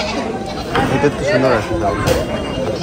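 A goat bleats repeatedly at a busy livestock market before Eid sacrifice, its wavering cries close and loud over constant crowd chatter and nearby talking.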